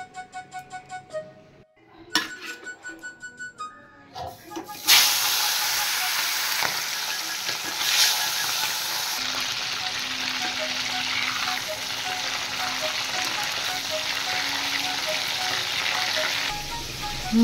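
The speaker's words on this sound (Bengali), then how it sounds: "তাহলে এবার মাছগুলো আমি ভেজে নিই।" Whole small fish, scored and salted, drop into hot oil and fry with a loud, steady sizzle and crackle that continues without pause after a few clanks from the pan, close by with no talk.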